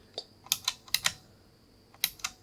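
Plastic keycaps being pressed back onto a Razer keyboard in a quiet room, giving a scattered series of close, sharp clicks and clacks in uneven bursts, with no talk.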